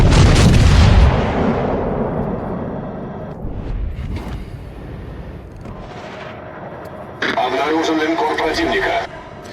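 A Sevastopol cruiser fires its main guns during a World of Warships Legends naval battle: a loud, heavy booming salvo opens, then a long rumbling decay, followed later by a second harsh burst of noise.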